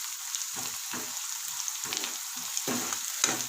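Masala fries in a pan with a close, steady sizzle, broken by several spatula scrapes and stirring strokes that come in irregular bursts; no speech is heard.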